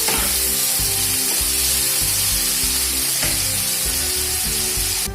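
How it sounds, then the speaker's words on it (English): Continuous sizzling and crackling of grated onions frying in a hot pan for a Bengali crab curry, close up, with occasional scraping and stirring clatter and no talking. "I will put the grated onions and fry it."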